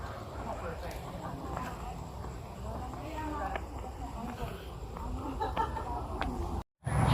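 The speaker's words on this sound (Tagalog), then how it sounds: "Ayan yung manok." A chicken clucks in short bursts at a moderate distance, with people talking nearby and outdoor rustling throughout, near a mountain roadside in Baras, Rizal.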